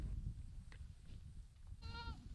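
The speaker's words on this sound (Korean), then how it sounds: "염소 목장을 개건하고 염소 기르기를 통이 크게 내밀고 있습니다" Goats bleat at a goat farm over a dense, noisy background rumble. There is one clear bleat near the end and fainter calls earlier.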